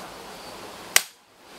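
A single silenced airgun shot fires as one sharp, close crack with a quick decay, breaking a faint background hiss and leaving near silence afterwards; no voices.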